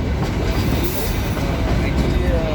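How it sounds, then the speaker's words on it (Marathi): Mini train on narrow-gauge rails at the Matheran hill line near Aman Lodge station, a dense continuous rumble of wheels and carriages rolling close by with faint squeals. "मिनी ट्रेन आहे मिनी ट्रेनची शटल सेवा म्हणून चालू आहे"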